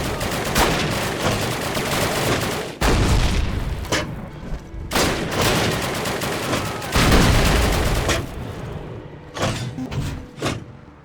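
A flak cannon firing in World War II shooter Call of Duty, several loud booming blasts spaced a second or two apart with bursts of gunfire and clatter between them.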